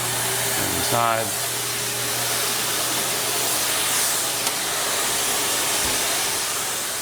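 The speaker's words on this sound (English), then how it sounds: "I'm going to turn my vacuum on" Car-cleaning vacuum running steadily after switching on, a continuous broadband whooshing hiss with a faint whine, close and fairly loud, with a brief spoken word near the start.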